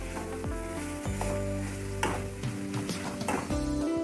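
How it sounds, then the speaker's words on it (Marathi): Modak masala filling sizzling as it is sautéed in a pan, a steady close frying hiss with repeated stirring scrapes, while a low tonal drone sits underneath throughout. "मोदकमध्ये जेव्हा आपण मसाला भरतो तो असा कच्चा नाही लागायला पाहिजे म्हणून याचं परतून घ्यायचं"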